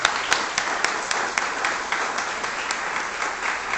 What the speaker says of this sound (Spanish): Denle mientras otro aplauso fuerte al Rey.